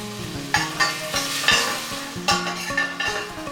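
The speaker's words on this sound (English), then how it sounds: "Then add in 1 medium onion sliced." Sliced onion with cardamom, cloves, cinnamon and mace sauteing in hot oil: a loud sizzle broken by repeated scraping stirs and clanks of a spoon against the pan, close and without talk.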